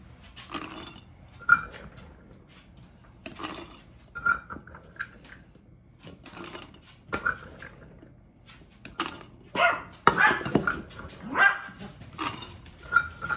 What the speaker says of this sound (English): Ignore my little yappy dog. She's definitely a yapper.